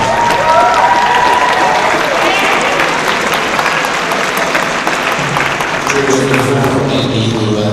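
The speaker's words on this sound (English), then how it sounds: "Everyone give him a big round of applause." An audience at a school Christmas show gives loud, continuous applause to welcome a guest narrator, a steady crowd roar; later, faint instrumental tones begin underneath as the clapping goes on.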